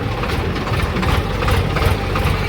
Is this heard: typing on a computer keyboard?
no